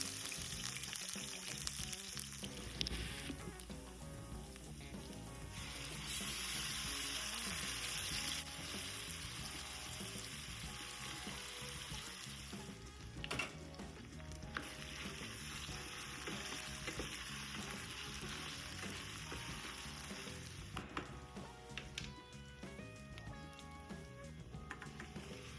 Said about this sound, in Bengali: আর বেগুনটা আমি এখন রান্না করব।